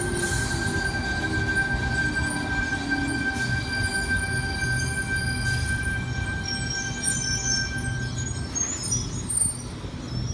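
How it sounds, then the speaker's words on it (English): A Sydney Trains V-set train pulls into a platform at Penrith, a steady rumble of rolling wheels and motors with sustained high-pitched wheel squeal ringing throughout, loud and close with no talk. "V32 arriving into platform 2,"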